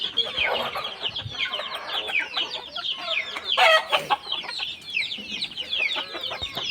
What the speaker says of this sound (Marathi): गणेश सर खूप छान क्वालिटीचे तुम्ही पक्षी दिलेले आहेत